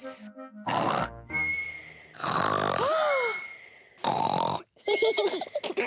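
A voice imitates loud snoring, with deep grunting, rasping snores between bursts of lively talk.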